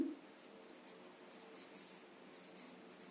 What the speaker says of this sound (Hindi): अब मैं यहाँ पे लिखती हूँ